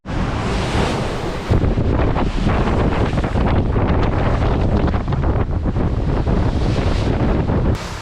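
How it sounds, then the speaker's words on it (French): Strong wind roars continuously across the microphone on a sailboat at sea, with rushing sea spray and waves, loud and unbroken throughout. "Le vent s'est enfin levé au plus grand bonheur du capitaine."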